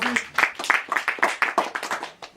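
Enthusiastic hand clapping from a group at a 91st birthday celebration, a dense burst of close, uneven claps lasting a couple of seconds with no voices over it.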